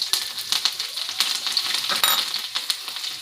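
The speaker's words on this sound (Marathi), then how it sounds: "मी तडक्यामध्ये इथं मिरची टाकून घेणार आहे" Green chilies sizzle loudly in hot oil for a dhokla tadka, a dense, close crackling hiss broken by sharp pops and a few metallic clinks of a stirring spoon.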